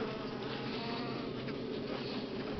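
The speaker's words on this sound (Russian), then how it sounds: "Внизу также много пчел" Buckfast honey bees buzzing at an open hive during a honey harvest, a dense continuous hum of many wings close by, steady and fairly quiet with no talking.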